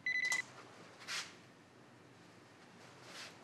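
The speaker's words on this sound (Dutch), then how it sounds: "Het was de wekker van de oven, want je koekjes zijn klaar." An oven timer gives a short burst of rapid electronic beeps at the start, followed by quieter faint tones against a soft background hiss.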